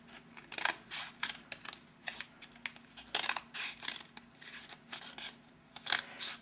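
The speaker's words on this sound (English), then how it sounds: "just cut those slits all the way across" Scissors snip repeated slits across a cardboard toilet paper tube, a close series of sharp, crisp cuts in uneven bursts with brief pauses between, no voices.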